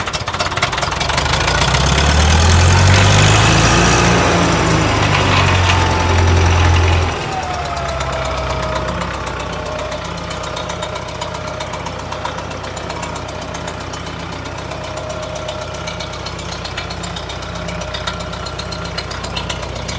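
A Caterpillar D4D dozer engine runs loud and close, a heavy low rumble that drops to a steadier, quieter idle partway through, with a voice talking over it.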